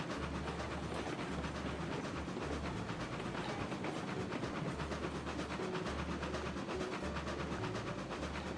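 Locomotive rolling along rails in the Railroads Online game, with a steady low rumble and repeating wheel clatter, moderately loud and continuous with no talk.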